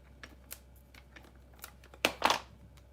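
A 3/4 inch circle punch clamps down twice on paper, two sharp crunching snaps close together near the end, after a few faint tapping handling sounds.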